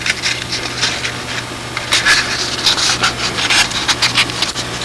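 An edge of a wooden piece is bevelled by hand with rhythmic, close, scratchy rasping strokes that repeat at an even pace.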